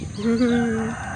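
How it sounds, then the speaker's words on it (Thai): Rooster crowing in the morning, one drawn-out crow heard up close and fairly loud, standing alone without any talk. "ได้ยินเสียงไก่ขันไหมคะ"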